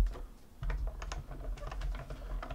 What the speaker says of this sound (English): And we'll just die cut this out.